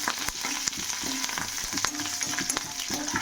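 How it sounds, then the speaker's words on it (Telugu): Mustard seeds and curry leaves crackle and sizzle in hot oil while being tempered for a ridge gourd dish, giving a steady close frying hiss broken by sharp pops and the occasional stir. "ఇవన్నీ బాగా ఫ్రై చేసుకోవాలన్నమాట."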